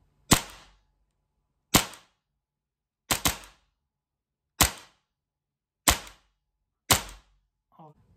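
A TM Hi-Capa airsoft pistol fires six sharp, loud, snappy shots, spaced about a second or more apart, each a crisp crack with a short decay, with a faint clatter at the end.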